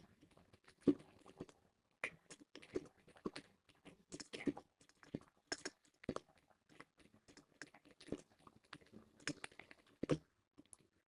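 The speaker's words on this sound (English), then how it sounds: "I'm just typing out all the shit." Keys on a computer keyboard clatter in quick irregular bursts with short pauses between, close and fairly quiet, with no talking.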